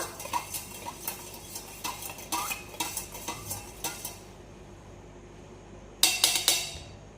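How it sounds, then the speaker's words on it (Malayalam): A metal spoon clinks repeatedly against a glass of lemon juice in a steady stirring rhythm, then pauses before a brief louder burst of clinking near the end. "സ്പൂൺ എടുത്തിട്ട് ഇങ്ങനെ കുറച്ച് സമയം ഇളക്കുക."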